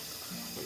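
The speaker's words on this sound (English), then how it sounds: "Just gonna fill this large sauce pan" Tap water runs steadily into a large saucepan at a kitchen sink, a continuous soft rushing hiss heard close and alone.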